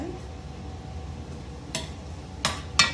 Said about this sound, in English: Let's put in the white onions. So let's stir that in.